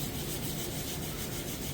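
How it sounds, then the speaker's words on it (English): White oak wood is sanded with a steady, even abrasive rubbing hiss that runs unbroken and close throughout. "And then spend forever on the sanding"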